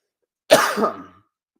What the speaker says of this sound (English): I do have a lingering cough